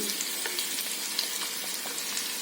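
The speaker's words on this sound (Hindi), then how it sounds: "1/2 कप ऑयल मैंने यहाँ देगची में डाल दिया है। अब मैं ये 2 अदद प्याज हैं बारीक कटे हुए वो इसमें डाल दूंगी।" Finely chopped onions hiss and crackle in hot oil in a cooking pot, a dense close sizzle with scattered pops and light stirring.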